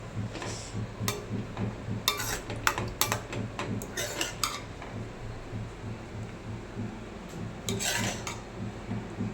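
Food in a pot being mixed for a kala chana masala meal, with a spoon clinking and scraping against the metal in irregular bursts over a low background hum and no talking.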